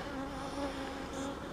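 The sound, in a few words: bees buzzing around a hive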